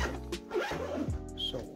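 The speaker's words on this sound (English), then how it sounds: "So we're gonna zip this back up, turn the bag around" A zipper on an Alienware Horizon Commuter Backpack is pulled closed in short, close-up raspy strokes, heard under someone talking.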